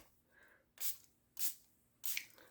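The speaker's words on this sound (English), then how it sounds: "I'm going to add a little bit of spray" Three short hissing bursts of spray onto paper, evenly spaced about half a second apart, close and fairly loud against quiet.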